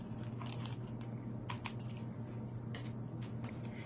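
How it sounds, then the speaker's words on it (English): Scissors snip in a few quick, light cuts as the bottom of a fragrance mist spray sleeve is trimmed, close and quiet with no talk. "And now I'm just trimming the bottom."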